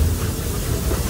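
Walt Disney World Railroad steam train pulling into Main Street Station, giving a steady, close rumbling hiss and rolling noise.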